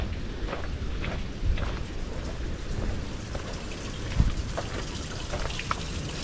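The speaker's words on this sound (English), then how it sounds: "Sounds almost like there's a waterfally bit in it." Water dribbles off rocks from a murky pond, making a steady broadband trickling wash throughout with a few faint thumps, no voices over it.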